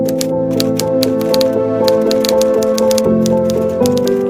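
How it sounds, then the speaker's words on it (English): A typewriter clacks out leaflets in quick, loud, irregular keystrokes over a sustained musical backdrop. "For Helmuth, it was time to sit down and start typing up the truth."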